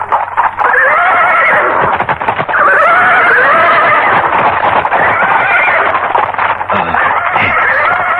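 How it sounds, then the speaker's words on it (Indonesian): Horses neigh and whinny loudly in a radio drama sound effect, with several long, wavering calls overlapping one another and a brief clatter near the end. "Kenapa kuda-kuda jadi ribut?"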